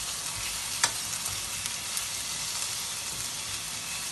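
Squid adobo frying in a pan as tomato is added: a steady, close, crackling sizzle of oil with occasional stirring clicks and scrapes, no voices.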